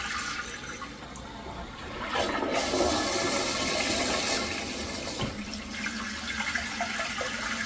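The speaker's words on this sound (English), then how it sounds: "There's that second flush." Automatic flush of a smart toilet with a built-in bidet, a rushing swirl of water that swells loud and steady for several seconds, then a second, quieter flush refilling near the end, heard close with no talking.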